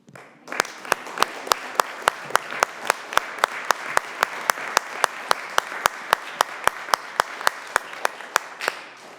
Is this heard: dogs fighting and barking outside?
no